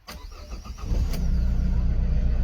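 Renault Kangoo engine cranking in rapid pulses, then catching and settling into a steady, loud low idle with a rough, vibrating rumble.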